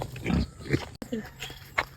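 A sow in heat grunts in a pig pen, with several short, throaty grunts spaced across a couple of seconds, close by and mixed with people talking nearby.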